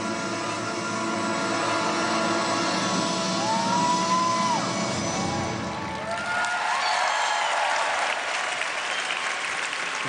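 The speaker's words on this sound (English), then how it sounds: "Great reaction from the crowd here at the CenturyLink Center in Omaha." Crowd applause fills the CenturyLink Center in Omaha at the 2013 U.S. figure skating championships, a dense sustained roar of clapping and cheering that thins out toward the end.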